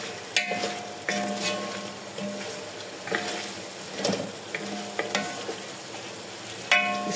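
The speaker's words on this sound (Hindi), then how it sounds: "अच्छा, इसको थोड़ा सा भूनते हैं मसाला जो हमने इसके अंदर ऐड किया है।" Masala with green chillies fries in a pan for biryani, giving a low continuous sizzle broken by repeated scraping knocks as a spoon stirs it, close and moderately loud.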